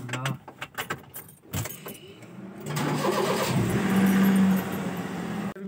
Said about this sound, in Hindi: मैंने कार निकाल ली है